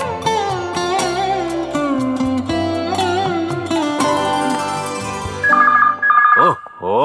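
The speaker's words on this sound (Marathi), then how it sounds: "कुणी फोन उचलायला नाहीये" A telephone rings in a Marathi film scene, a repeating electronic ring rising over background music and dialogue, with people talking throughout.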